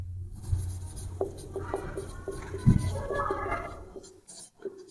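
A hand writes a maths equation on a board, with a series of short scratchy strokes and taps at close range, mixed with faint murmured speech in the background.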